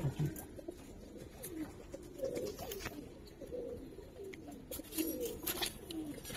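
Male khaki Giribaz pigeon cooing while being held in the hand, soft repeated low coos at close range, fairly quiet.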